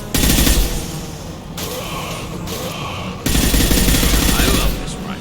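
Rifle fire in Mass Effect 2 comes in loud, dense automatic bursts with short gaps between them, close and harsh, with battle noise under it.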